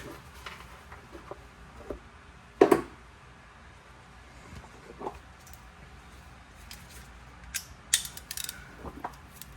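A ratchet wrench turns the oil drain plug on a Toyota 4Runner, with a few brief clicking and clunking bursts scattered among quiet gaps, close up.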